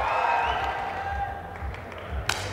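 A crowd at an ISSF shooting World Cup final in New Delhi murmurs and claps steadily, a low sustained buzz with scattered applause and a brief sharper clap near the end, with voices mixed into the noise.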